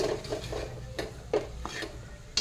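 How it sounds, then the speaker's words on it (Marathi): Samosa potato-vegetable filling with plenty of coriander being stirred and sautéed in a pan, a spoon scraping and knocking against the metal in irregular strokes over a faint low sizzle, close and fairly quiet, no talking. "एक दोन ते तीन मिनिट आपण आता परतून घेऊ म्हणजे आपली समोशाची भाजी तयार होईल"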